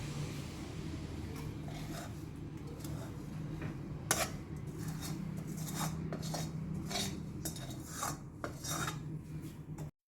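Warm jaggery-sesame ladoo mixture scraped out of a pan into a wide plate, a steady raspy metal scraping with repeated sharper strokes over a low constant background hum, close and moderately loud throughout.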